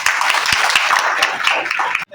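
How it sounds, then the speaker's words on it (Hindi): Loud clapping from a small gathering welcoming guests at an old age home during a Gandhi Jayanti visit, dense and steady for about two seconds before stopping abruptly. "जोरदार तालियां"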